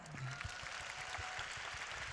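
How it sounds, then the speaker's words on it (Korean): An audience at a talk claps continuously for a couple of seconds, a faint and even patter of many hands with no speech over it. "그런 의미에서 한번 박수 칠까요?"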